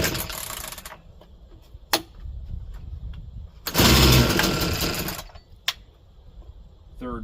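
An Echo chainsaw is pull-started several times. Short rasping cord pulls and brief sputters are followed by a loud burst of engine noise lasting about a second and a half, then quieter clatter and another pull.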